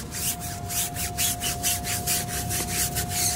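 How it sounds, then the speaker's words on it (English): A stiff-bristled scrub brush works over a car tire in quick back-and-forth strokes, a close rhythmic scratching swish repeating about five times a second against a faint steady tone. "Get a scrub brush with stiffer bristles."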